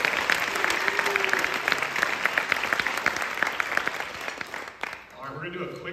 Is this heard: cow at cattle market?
no